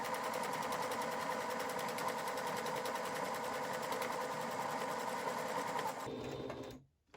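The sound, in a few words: sewing machine stitching fabric face mask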